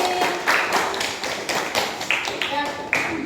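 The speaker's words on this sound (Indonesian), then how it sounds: "tepuk tangan untuk Airin" Children in a classroom clap for a classmate during an Islamic studies lesson, a scattered series of sharp hand claps over roughly three seconds with some voices mixed in.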